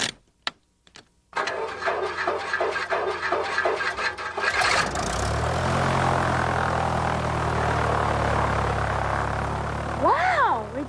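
A small propeller airplane engine starts after a few knocks, then runs loud and steady with a buzzing drone for several seconds as it flies, with brief whistling sweeps near the end.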